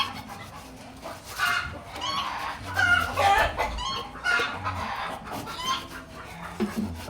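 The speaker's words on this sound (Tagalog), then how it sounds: "Putak na putak." Chickens cluck and squawk in repeated bursts close by, with a rooster crowing amid the flock and faint farmyard background noise, without talk.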